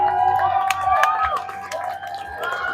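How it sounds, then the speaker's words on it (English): A crowd at a Unified soccer match between Nashville SC and New England Revolution cheers and shouts as the teams head to the sideline, a lively burst of voices and whistles, fairly close and loud throughout. "The crowd cheers on both teams as they make their way back to the sideline here."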